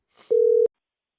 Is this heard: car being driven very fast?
no